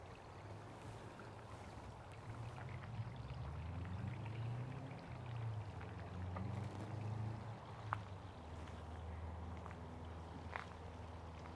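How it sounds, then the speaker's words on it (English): A small creek flows into a larger stream in a garden, a quiet, steady trickling and burbling with faint scattered footsteps nearby. "Another little creek that comes in."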